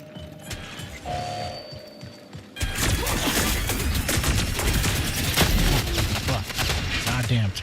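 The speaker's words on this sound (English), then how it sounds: "Goddamn turrets." Automated turrets in the sci-fi shooter Marathon open up in a sustained, loud stream of rapid gunfire that starts abruptly after a quieter stretch with beeping tones and a voice.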